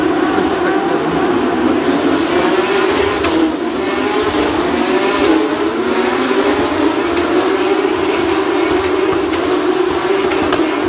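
Porsche Supercup race cars running through the streets of Monte Carlo, their engines producing a sustained loud whine that rises and falls, heard beneath talk.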